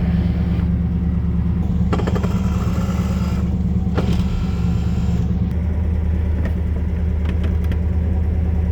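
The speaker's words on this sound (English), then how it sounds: "Engine's idling nice." A big-block 396 V8 in a 1969 Chevrolet El Camino SS idles close up with a steady, lumpy low rumble and occasional rattles, no one speaking.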